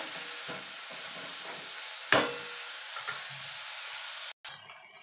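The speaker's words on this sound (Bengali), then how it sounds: "দিয়ে বেগুনটাকে একটু ভাজা ভাজা করে নেব।" Eggplant fries in a pan with a constant, close hissing sizzle and one sharp spatula scrape partway through.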